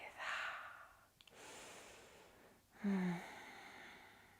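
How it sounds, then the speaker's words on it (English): Slow, deep breaths drawn during a gentle yoga hold, close and soft, with long airy inhales and exhales separated by brief pauses and one deeper, slightly voiced exhale near the end. "Let's take a few breaths here."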